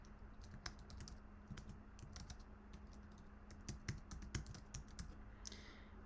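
Fast, irregular clatter of computer keyboard keys as customer details are typed into an invoicing program, close and fairly quiet over a faint steady hum, with no talking.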